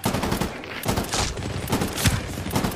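Sustained gunfire during a beach assault in Medal of Honor: Warfighter, repeated sharp shots and bursts over a constant roar of battle, loud and close.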